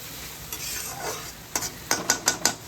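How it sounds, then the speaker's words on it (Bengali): Spice paste for prawn malai curry fries in a pan under a low sizzle, punctuated by a quick series of sharp spoon scrapes and clicks from stirring toward the end. "একটু ভাজা ভাজা হোক মশলাটা।"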